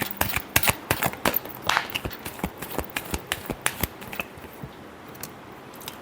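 Tarot cards are shuffled by hand in a rapid, even train of crisp close-up flicks and snaps, tapering off near the end.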